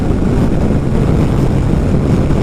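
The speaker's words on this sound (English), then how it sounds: "The wind's really picking up." Strong wind blasts across the microphone during a motorbike ride in Scotland, a dense continuous low roar that stays loud and unbroken with no talking.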